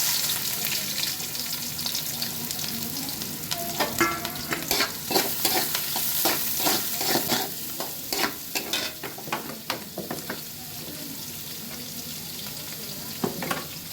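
Onion and chopped green chillies sizzle steadily in a hot pan on a home stove, with bursts of spatula scraping and stirring layered over a constant close crackle and no talking.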